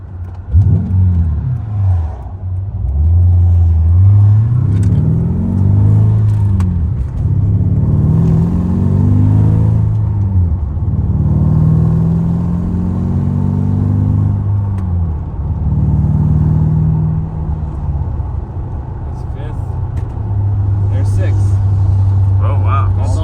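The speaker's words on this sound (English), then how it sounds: "Rev's a lot happier too with that light flywheel." A Mercedes W210 E55 with a manual swap and a light single-mass flywheel is revved again and again. The engine pitch climbs and drops loudly up close while people talk over it.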